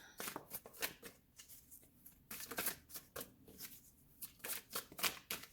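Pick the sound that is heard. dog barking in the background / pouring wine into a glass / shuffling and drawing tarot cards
shuffling and drawing tarot cards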